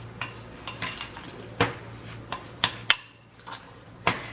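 Potato finger ingredients being mixed in a bowl for a WW2-era ration recipe: scattered clinks and scrapes of a utensil against the bowl, close and fairly quiet, with no talking.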